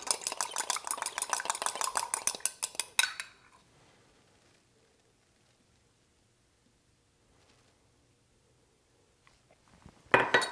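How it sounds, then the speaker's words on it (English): Brisk whisking of a Greek lemon vinaigrette in a bowl, a fast rhythmic scraping and clinking for about three seconds, then near silence before a short burst of the same stirring returns at the end. "We're going to give it one final last whisk"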